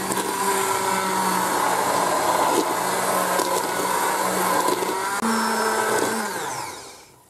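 A blender whirs loudly and steadily through red wine sauce for braised pork cheeks, its motor pitch wavering slightly before winding down and fading out at the end.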